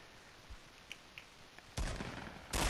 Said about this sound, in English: Why are you just shooting?